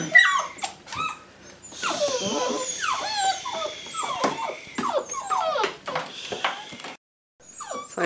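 Puppies scrap and whimper in their crates, giving out high yelps, whines and short yips in bursts. A brief pause falls near the end before the noise starts again.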